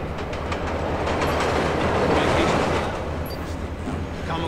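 A train rolls steadily through a level of Splinter Cell Blacklist, a continuous loud rumble with rhythmic wheel clatter holding at an even level throughout, no voices over it.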